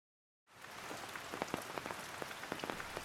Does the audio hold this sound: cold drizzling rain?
yes